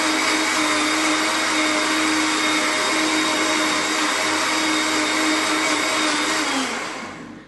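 A blender briefly pulses red lentil soup with chilli and coriander, a loud steady motor whir that runs continuously for several seconds before winding down at the end.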